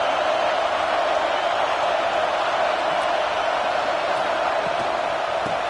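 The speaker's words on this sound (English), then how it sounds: "Listen to the crowd energy here in the early going." A college football stadium crowd at Michigan vs Georgia, a broad, steady roar of cheering voices filling the space, loud and unbroken throughout.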